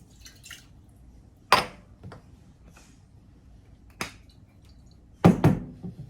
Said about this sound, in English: let's juice half a lime